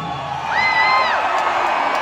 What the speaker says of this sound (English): They keep on cheering. I think they cheer all night,